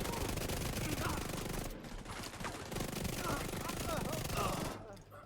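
Automatic gunfire in the shooter game The Division 2, heard as dense, continuous rattling bursts over a busy game soundscape, with someone talking over it.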